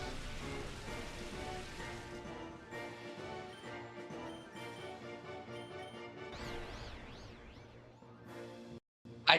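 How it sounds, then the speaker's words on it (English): Rain weather effect in a Pokemon XD battle: a soft, steady patter under game music, followed near the end by rising and falling electronic chirps and a brief burst. "Let's get rid of the Shadow Sky and cast some rain on this sad,"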